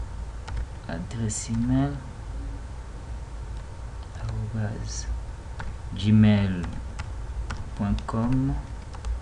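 Quick clicks of typing on a computer keyboard while entering a name and an email address into a form, soft and steady under someone talking in French throughout.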